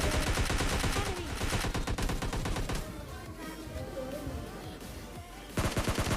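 Dense automatic and rapid gunfire in the mobile battle royale game PUBG Mobile Lite rattles continuously for several seconds, loud and close, during a solo-versus-squad match.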